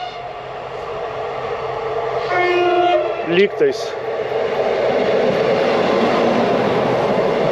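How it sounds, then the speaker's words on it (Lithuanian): A passenger train from Mažeikiai pulls into Šiauliai railway station, its horn sounding briefly amid steady rumbling rail noise; a person speaks close by. "Atvažiuoja traukinukas iš Klaipėdos."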